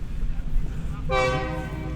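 A train sounds its horn near a football pitch during a women's Confederations Cup qualifier final, a sudden loud blast midway over a low rumble of passing rail cars, with a commentator talking underneath.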